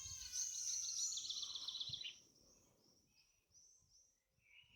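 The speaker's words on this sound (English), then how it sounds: "Welcoming in the sounds of the birds and the children, the future generations, and nature herself." Outdoor birdsong: a bright, warbling call fills the first two seconds, then fainter chirps and tweets follow in the distance over quiet ambience.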